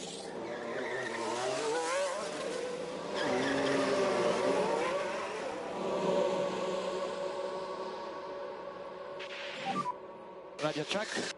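Race cars heading out for a practice session at Zandvoort in F1 Manager 24 on PS5, engines droning and shifting pitch as they pass, with tire noise, under a voice talking.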